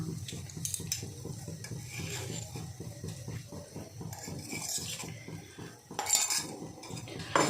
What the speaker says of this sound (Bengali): এবার আমি এই যে ভাঙাচোরা মশলাটা আমি দিয়ে দেব